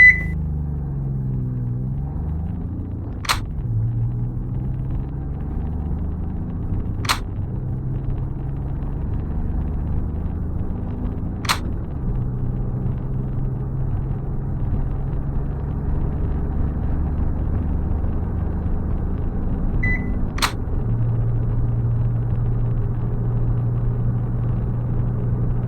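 A turbocharged Kubota D722 diesel engine in a Honda car drones steadily under acceleration during a road test, its low rumble stepping through gear changes, with a few sharp clicks heard over the constant in-cabin engine noise.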